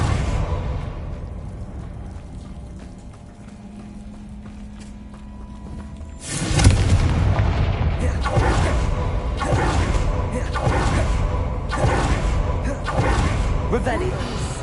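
Confringo fire-blast spell explosions in Hogwarts Legacy burst in after a quieter stretch, a run of loud, broadband blasts and impacts repeating in quick succession, with game effects mixed underneath.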